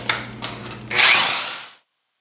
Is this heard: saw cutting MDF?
yes